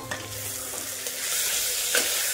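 Tomato and ginger being sautéed in a pan for masoor pulao: a soft, close sizzle with a few stirring scrapes, fairly quiet, with no voices.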